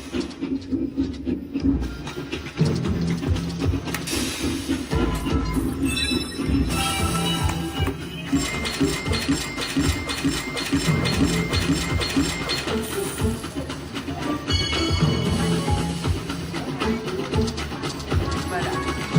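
Train-themed sound effects from the All Aboard Dynamite Dash slot machine in a casino, a busy, continuous mechanical clatter and ratcheting with jingles, loud throughout, with talk over it.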